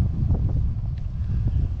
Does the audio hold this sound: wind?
yes